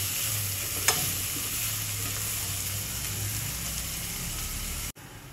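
Finely chopped onions sauté in a pressure cooker for quick pav bhaji, giving a steady close sizzle and crackle. One sharp clink of a utensil comes early, and the sound cuts off briefly near the end.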